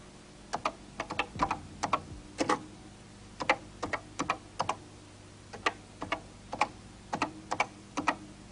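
Fingers tapping a command on a 1983 computer keyboard, clicky keystrokes in short uneven bursts with pauses between, close and clear in a quiet room, nobody speaking.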